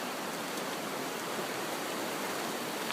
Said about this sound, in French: regarde là dans le fond, là la petite cascade d'eau